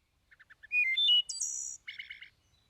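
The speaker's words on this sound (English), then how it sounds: "So here's a wood thrush, common bird up here in the spring." A recorded wood thrush song plays alone against silence: a few soft introductory notes, then clear flute-like whistled phrases and a final rapid trilled flourish.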